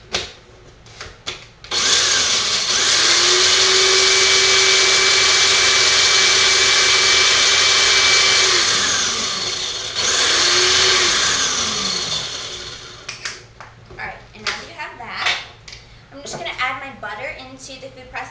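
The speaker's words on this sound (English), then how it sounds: "I'm just going to throw these in the food processor and grind them up." A food processor grinds sunflower seeds in loud, sustained whirring bursts, running about seven seconds, pausing, then running again before stopping, followed by clattering and a few spoken words.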